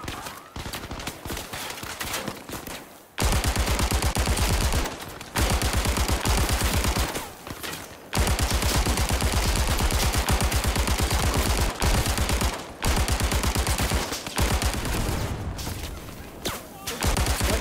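Sustained bursts of UMP submachine gun fire in the Zero Caliber VR shooter, loud rapid volleys broken by short pauses, with a brief quieter stretch at the start.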